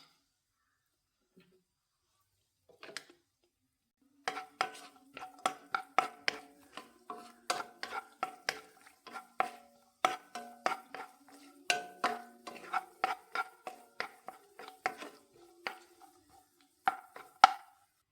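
Repeated clinks and scrapes of a utensil stirring cashews frying in a pan, a steady run of light metallic taps with a faint background sizzle.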